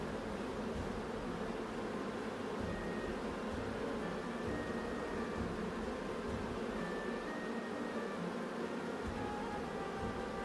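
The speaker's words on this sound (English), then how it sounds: "I thought the humming would bother me, but I find it actually very relaxing." Bees at a bee house in the Return to Moria video game give off a steady, low, continuous hum that fills the whole stretch evenly, with faint tonal whines drifting above it and no talking.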